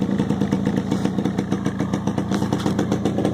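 A cold Yamaha RXS 100 motorcycle idles steadily with a rapid, even two-stroke putter and a slight low-end grumble, loud and close with no talking over it.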